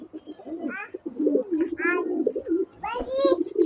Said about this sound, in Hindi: ये देखें जी कबूतर